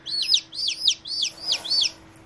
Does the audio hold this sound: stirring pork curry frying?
no